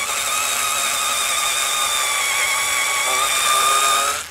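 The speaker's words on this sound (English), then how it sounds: "there's absolutely no issue with it drilling at all." A Bosch IXO 6th-generation cordless screwdriver fitted with its drilling attachment and a 4mm bit bores holes, giving a steady high-pitched motor whine that holds loud and close for about four seconds before cutting off.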